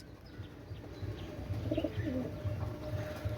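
A royal teddy pigeon coos softly, low repeated pulsing calls at a steady rhythm, fairly faint and close against a quiet background, without any talking.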